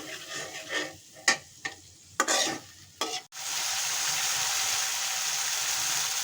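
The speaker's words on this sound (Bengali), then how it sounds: "এখন আমি ভালো করে একটু কষাতে থাকবো মশলাটা" Spice paste being stir-fried in a pan, with several distinct scraping strokes of the spoon. Then a sudden loud, steady sizzle starts and carries on close by, like liquid hitting the hot pan.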